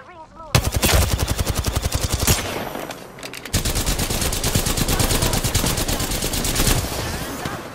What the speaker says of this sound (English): I'm taking fire, friends.